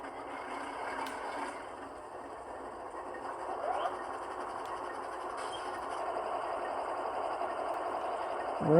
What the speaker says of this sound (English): We'll go ahead and apply track power, which should automatically start this Tsunami 2 decoder.